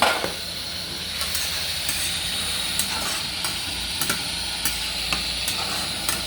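Water and vinegar hit a hot cooking pan with chicken, producing a hissing, steamy sizzle and a series of sharp clinks and scrapes at regular intervals, close and moderately loud, with no talking.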